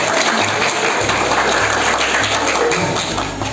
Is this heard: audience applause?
yes